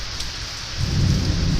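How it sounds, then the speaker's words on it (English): Thunder rumbles low and heavy through steady rain during a storm, the deep roll swelling louder in the second half beneath the constant hiss of rainfall. "There's thunder."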